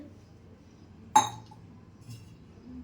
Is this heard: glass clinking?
yes